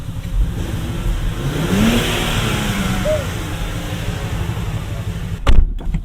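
A 2024 Nissan Z's 3.0-litre twin-turbo V6 revs up in a couple of rising pulls and settles back to idle, close by, ending with a solid thump of a door.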